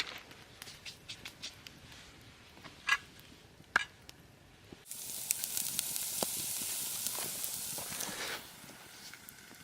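Peppers and onions sizzle in a pan over a camp stove on a fall backcountry trip, a bright steady hiss that starts abruptly midway and holds, after scattered ticks and knife clicks at the start.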